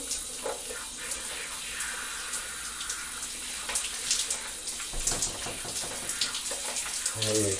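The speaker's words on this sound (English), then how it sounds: "Let's get your hair wet now." Water runs steadily from a tap in a bathroom as someone's hair is wetted. The broad, even rush stays close and continuous throughout, with scattered small splashes and handling noises over it.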